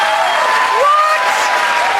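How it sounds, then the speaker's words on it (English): A studio audience on a cooking show applauds in a dense, steady burst of clapping that lasts the whole moment, with a brief vocal sound rising above it partway through. "What? Stop clapping."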